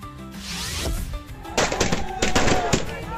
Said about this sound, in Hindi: लोगों ने आतिशबाजी करके नए साल के जश्न की शुरुआत की।